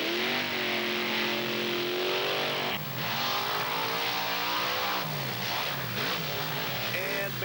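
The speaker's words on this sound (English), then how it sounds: "The Wildfire matches up against Tom Meents and the Monster Patrol" Monster trucks racing side by side in a 1995 Wildwood, New Jersey event, the Wildfire Chevrolet against the Monster Patrol, with loud, continuous roaring engines that rise and fall in revving sweeps throughout, close and dominant.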